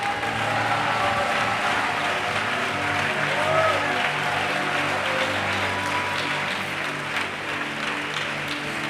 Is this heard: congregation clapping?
yes